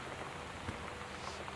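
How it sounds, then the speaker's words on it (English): Steady rain falls outside a house in the exploration game Gone Home, a continuous dense hiss of drops on surfaces that holds level throughout with no voices over it. "It's still raining outside"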